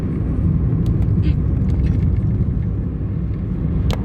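A car driven toward a school on a cold day hums with a steady low engine rumble and road noise from inside the cabin, holding even in level, with faint clicks and small interior sounds scattered above it.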